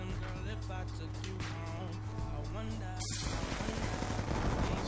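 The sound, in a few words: gunfire from players fighting in Black Ops 2 video game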